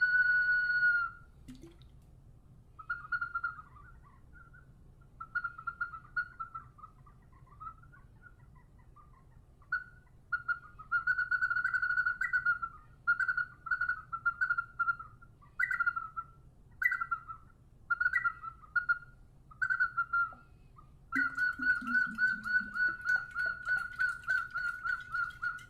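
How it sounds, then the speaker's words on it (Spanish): Water whistle played in short warbling, bird-like trills, repeated in bursts with pauses, fairly clear against a low background hum. "Si podemos transcribir el sonido del silbato de agua a notación musical."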